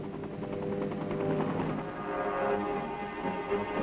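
A military helicopter hovers during a Vietnam War forest penetrator casualty evacuation, its rotor giving a steady, fast rhythmic chop, fairly close and constant with no voices.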